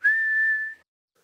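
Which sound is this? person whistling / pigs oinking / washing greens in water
person whistling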